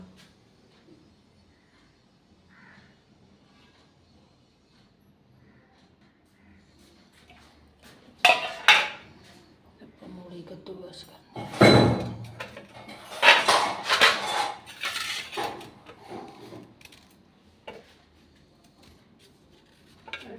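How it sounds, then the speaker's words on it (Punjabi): Radish being grated in a home kitchen to mix into flour dough, with short bursts of rough scraping and metallic clatter after a long quiet stretch. "ਮੂਲੀ ਕੱਦੂਕਸ ਕਰਾਂਗੇ"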